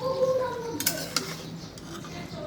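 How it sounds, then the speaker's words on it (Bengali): Potatoes and eggplant are stirred in a pan, with a few close metallic scrapes and clinks of the utensil over a low, soft sizzle. "দিয়ে এখন নাড়াচাড়া করব।"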